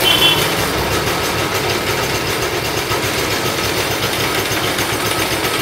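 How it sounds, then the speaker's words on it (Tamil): A restored 1980s TVS 50 two-stroke moped engine idles close up with a steady, buzzing, rattly putter that holds an even level throughout, with no talking over it. "ஸோ பார்த்தீங்கன்னா பைக் வந்துட்டு ஸ்டார்ட் ஆகிடுச்சு."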